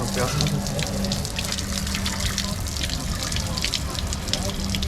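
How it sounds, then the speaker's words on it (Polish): A shower in the Dragon Caves area of Majorca runs steadily throughout, a loud, continuous hiss of spraying water close by, with no break in the flow. "Znaleźliśmy wreszcie jakiś prysznic, więc pora się umyć."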